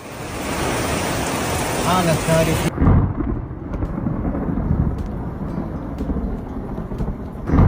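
Torrential wind-driven rain during a sudden severe thunderstorm in Yanbu, Saudi Arabia: a loud, steady roar of downpour and gusts that drops in brightness partway through, with rumbling bursts beneath.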